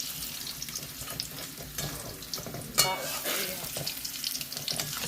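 Cabbage fritters frying in oil, a continuous close sizzle with one sharp spatter partway through and soft clinks as they are turned. No one speaks.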